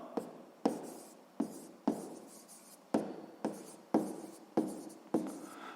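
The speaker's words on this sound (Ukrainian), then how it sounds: "Ну що ж, записуємо тоді відповідь." Pen strokes on paper while writing a sixth-grade math answer: about nine short, crisp scratching bursts, each starting sharply and fading, close and quiet with no voices.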